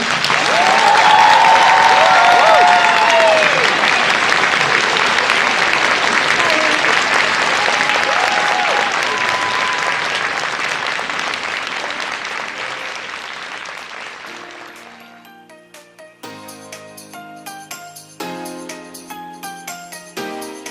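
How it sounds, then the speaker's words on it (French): Audience applause at a Comic Con Paris panel for an actress, a loud, dense clapping ovation from the start that gradually fades, giving way to jingly music near the end. "Tonnerre d'applaudissements à Amy Acker."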